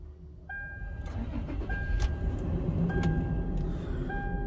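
A Toyota 4Runner SUV engine cranks and catches, then settles into a steady idle with a faint warning chime repeating in the cabin.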